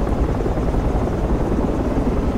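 A military helicopter in Project Reality roars continuously, its loud, dense rotor and engine noise rumbling steadily throughout with no pauses.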